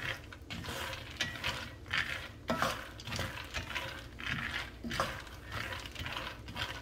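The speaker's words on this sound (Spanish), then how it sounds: "ahí está el ruido de que se están friendo" Continuous crackling and sizzling with scraping and rattling as peanuts with garlic and chile are stirred in a pan, steady and close, with no talking.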